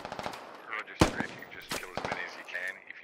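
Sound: gunshots in video game Squad

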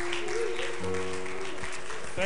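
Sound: congregation clapping in praise

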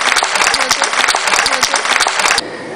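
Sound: crowd applause for returning cyclists

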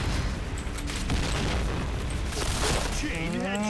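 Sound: grenade explosion in a video game

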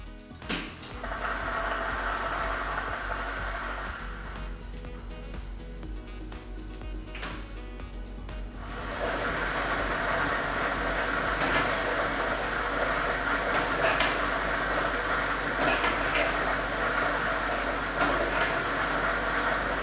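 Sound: lottery ball drawing machine switched on, balls tumbling

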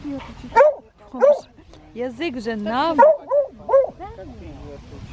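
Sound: dog barking and whimpering

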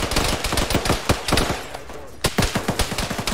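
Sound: gunfire in the video game Arma (ShackTac)

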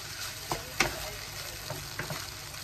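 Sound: fried rice with soy sauce frying on high heat

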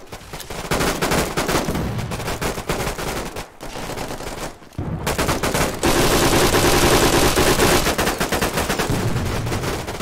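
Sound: machine gun fire in a tactical shooter video game

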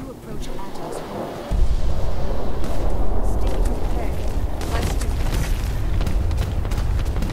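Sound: gunfire in the video game Fallout 4

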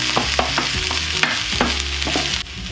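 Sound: stir-frying vegetables and onions for vegan pad kra pao

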